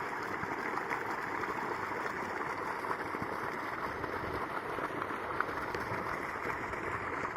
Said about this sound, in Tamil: இப்போ தண்ணி பார்த்தீங்கன்னா மோட்டர் ஓடிட்டு இருக்குதுங்க